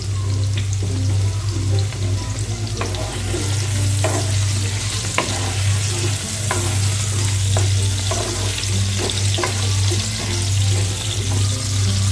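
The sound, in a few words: potatoes frying with salt and turmeric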